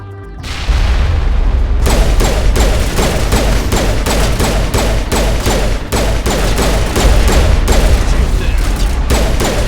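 Grenade blast and heavy combat in Mass Effect on Virmire, a loud boom followed by dense rapid gunfire bursts continuing steadily and close throughout.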